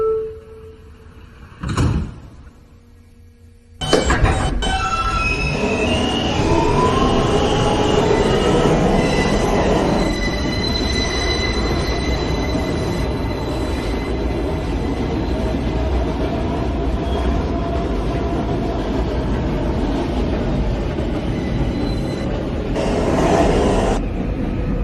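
A New York City N subway train bound for Ditmars Boulevard, heading toward Astoria Boulevard, starts moving after a brief thud and settles into a loud, steady rumble with wheel squeal and screeching, heard close from inside the car.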